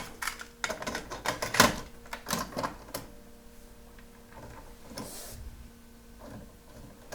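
A Pioneer CT-777 cassette deck winds a new BASF chromium dioxide cassette, its transport giving a run of mechanical whirring, clicking and clunking that is loud at first and then settles into a quieter steady hum.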